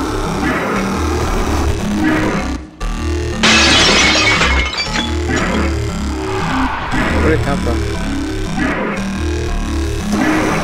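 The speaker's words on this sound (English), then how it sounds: "The glass is so loud too," Glass shattering in a video game, loud bursts of breaking glass repeating over a rumbling engine-like drone, with a person talking over the noise.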